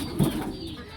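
A domestic pigeon gives a single low, soft coo close by on a rural Bangladeshi homestead, brief and muffled against light background hiss.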